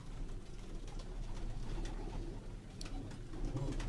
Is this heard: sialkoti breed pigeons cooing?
yes